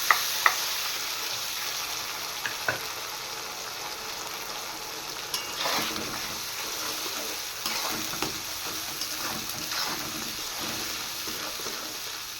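Onion paste, ginger and green chilli frying in a pan, a steady loud sizzle with occasional stirring clinks and scrapes throughout, no voices.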